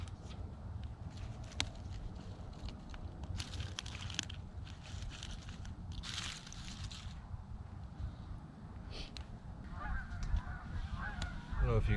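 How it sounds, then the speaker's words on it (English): Geese honking near a river at a truck campsite, scattered calls at moderate distance over steady outdoor background noise and occasional footsteps. "I don't know if you guys can hear all those geese, but they're pretty loud."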